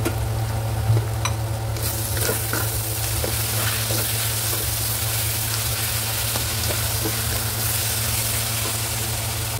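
Shrimp paste (alamang) with vinegar cooks in a pan with a steady, loud, continuous sizzle and occasional stirring scrapes, accompanied by a low hum at an outdoor beach resort in San Diego, Lian, Batangas.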